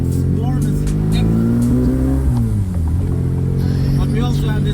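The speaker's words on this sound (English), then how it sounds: "But we also have this wonderful engine noise." A classic blue Morris Mini's engine revs loudly from inside the cabin, pitch climbing and then dropping as it shifts, with a strong buzzing drone and some wind noise.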